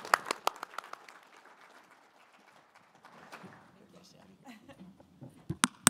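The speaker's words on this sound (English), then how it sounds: "Big round of applause." Scattered clapping from an audience at an honoring ceremony, a few sharp claps at the start and again near the end, with a voice speaking in between.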